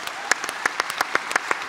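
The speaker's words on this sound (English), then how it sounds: "Let's give her a round of applause" Short burst of audience applause at a mayoral debate, a scattering of distinct claps in quick, irregular rhythm, moderately close and fairly light.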